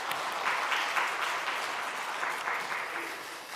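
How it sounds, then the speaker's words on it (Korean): A church congregation applauds in welcome, a dense burst of clapping that holds steady for a few seconds at moderate loudness. "우리 박수로 환영해 주시기 바랍니다"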